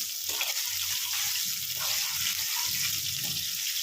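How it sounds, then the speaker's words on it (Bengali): Baby corn frying crisp in a little oil makes a steady, close sizzle and hiss with faint stirring noises underneath and no talking. "একদম কড়া করে ক্রিস্প করে ভেজে নেব।"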